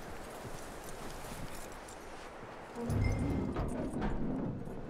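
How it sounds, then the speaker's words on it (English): A horse's hooves clip-clop in Red Dead Redemption 2, a soft rhythmic walking pattern that grows louder and closer partway through, with no talking over it. "That looks like a decent horse. You should keep him."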